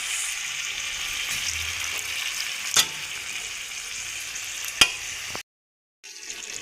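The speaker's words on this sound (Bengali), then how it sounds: "এবার পরিমাণ মতো জল দিচ্ছি একটু সেদ্ধ হওয়ার জন্য।" Shrimp with pui (Malabar spinach) stalks simmering in a pan after water is added, giving a steady bubbling hiss with two sharp clinks, then a brief gap of silence before the sizzle resumes.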